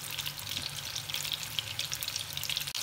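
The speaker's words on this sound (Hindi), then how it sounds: "इस तरह से साथ साथ इनको हम थोड़ा थोड़ा हिलाते जाएंगे और शैलो फ्राई करेंगे" Kofta balls shallow frying in oil in a pan, giving a dense, continuous close crackle and sizzle with a brief stir near the end.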